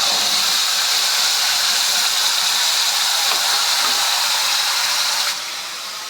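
Onion paste dropped into hot oil left over from frying fish, a loud continuous sizzling hiss that eases slightly toward the end, no talking.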